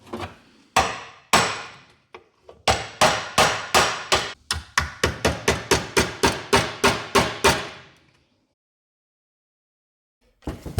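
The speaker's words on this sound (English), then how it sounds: "We've got ourselves a big 1 13/16 inch socket that fits right there, and we're just going to love tap this in." Hammer taps driving a seal into a Ford 4.6L 2V engine with a large 1 13/16 inch socket: a couple of spaced blows, then a quick steady run of about fifteen sharp, close metallic knocks, followed by quiet.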